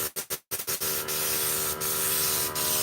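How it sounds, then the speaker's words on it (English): A paint sprayer gives a few short bursts of spraying hiss, then a steady continuous spray of Kilz paint that runs on loudly and evenly. "Spray a little bit out first, make sure you get the water out."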